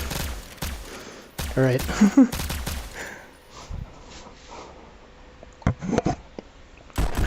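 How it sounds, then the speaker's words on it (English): Virtual pistol fire in the Pistol Whip VR rhythm shooter, several sharp shots in quick bursts near the start and a few scattered later, mixed with a player's voice and exclamations. "Stop shooting. Stop shooting."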